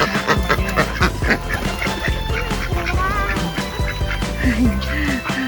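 Many ducks being fed quack busily close by, overlapping calls and honks in a noisy flock with some splashing and movement.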